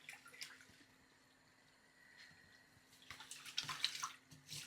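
Water poured slowly over rice in a bowl and swirled to rinse it for Tashkent-style plov, a soft quiet trickle and splash that builds into busier sloshing toward the end, heard alone without talk.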